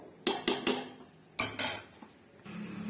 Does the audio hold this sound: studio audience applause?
no